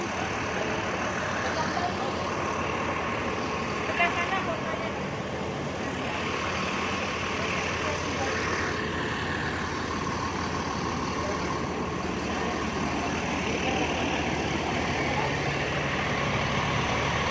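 A campaign bus sits with its engine idling in a steady, muffled rumble, heard at moderate distance beneath broad background noise and faint indistinct activity around it.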